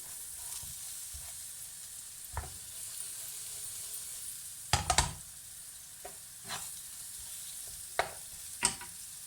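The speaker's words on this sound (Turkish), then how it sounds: "Şimdi sarımsağını atıyorum. Ve sarımsağı acılaşmadan hemen 1-2 saniye çevirip" Three cloves of garlic sizzle faintly in a pan, a soft steady hiss broken by a few sharp crackles and stirring scrapes at intervals.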